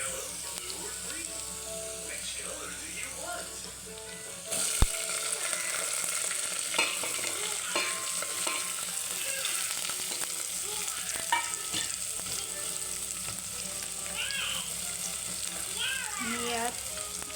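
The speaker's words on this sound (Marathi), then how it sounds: "लसूण आणि अद्रक पेस्ट टाकून द्यायची आणि मी यात आता शेंगा टाकणार आहे" Drumstick pods sizzle in hot oil with garlic-ginger paste while a spoon scrapes and stirs them in the pan, a steady close frying hiss with someone talking over it.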